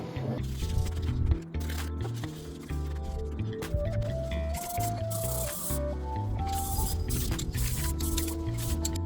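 Spray paint hisses in short bursts onto a 3D-printed animatronic sun clock face, close and fairly loud, layered over background music.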